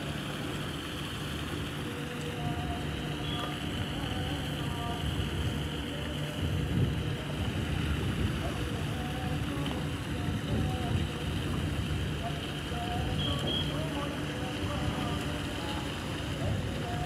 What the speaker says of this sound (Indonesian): Ini ternyata barengan kapal cepatnya sampainya.